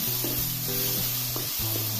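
Cashew pieces and melon seeds sizzle steadily in a pan while something scrapes and stirs through them, over a low droning hum.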